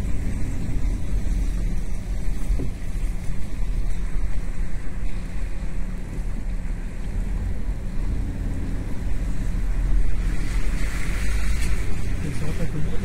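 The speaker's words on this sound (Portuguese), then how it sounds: "O pessoal tá tudo olhando o mar aí" Rough, storm-driven sea surf pounds the beach at Tramandaí and Imbé, a continuous broadband roar of waves and gusting wind buffeting the microphone, steady and loud throughout with people talking faintly.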